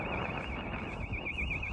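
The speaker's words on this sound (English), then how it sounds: "I think someone's house alarm's gone off." A house alarm sounds in the distance along a seaside walk in Kent, a steady wavering electronic tone that persists throughout beneath constant wind rumble on the microphone.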